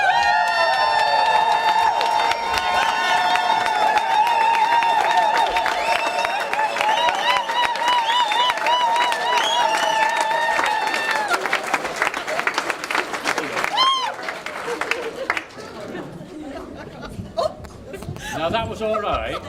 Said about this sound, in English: I'd like to everybody stand up, clap, cheer, punch the air